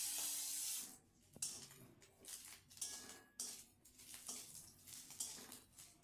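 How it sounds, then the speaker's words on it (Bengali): Grated coconut frying in hot oil in a wok, a steady hissing sizzle broken by scraping and stirring clinks of a spatula against the pan, close and fairly quiet. "এইভাবে নারকেল কুচিগুলোকে একটু লাল লাল করে ভেজে নিতে হবে।"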